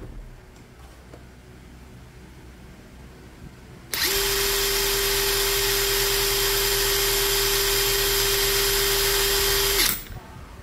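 A cordless brushless impact wrench spins freely on its precision-screw speed setting, whirring up abruptly into a loud, steady high-pitched whine that holds for about six seconds before stopping.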